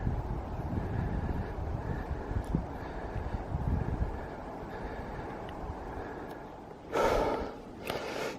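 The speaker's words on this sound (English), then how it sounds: "You can hear me huffing and puffing." A hiker breathes hard, huffing and puffing while climbing a very steep trail in New Zealand, with rough wind-buffeted breaths close to the microphone and a louder gasping exhale near the end.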